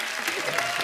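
Studio audience on a Hindi comedy talk show breaks into steady, dense applause that fills the whole moment, close and loud with no gaps.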